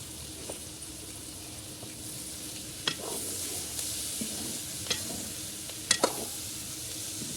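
Finely chopped round gourd (tinda) frying with browned onions for a Punjabi sabzi, a steady soft sizzle with a few sharp stirring clinks and scrapes of a spoon against the pan, close by, with no talking.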